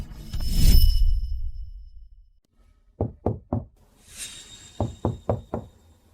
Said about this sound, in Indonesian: Siapa di sana? Mengetuk begitu keras?